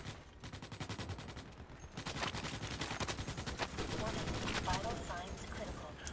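Rapid video-game gunfire rattles almost nonstop in dense automatic bursts from a Mobile Infantry squad, loud and close, while voices shout over the shooting.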